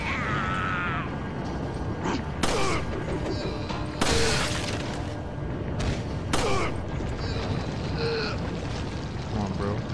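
Gunfire in the video game Resident Evil 4: several sharp, loud shots with tails, spaced irregularly over steady game ambience, with someone talking in between.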